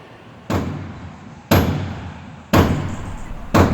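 A big hammer knocking out wing bolts during restoration of Lancaster bomber NX611, four loud metallic blows about one second apart, each ringing and decaying, close by.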